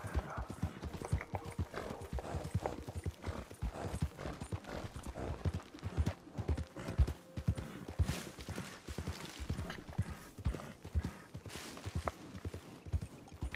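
Horse hooves walk at a steady clip-clop in the video game Red Dead Online, close and continuous, with a dead body slung across the horse's back and faint background sounds.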